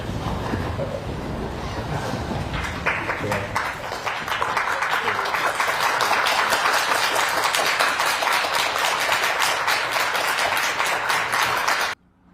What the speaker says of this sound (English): they got a standing ovation inside the courtroom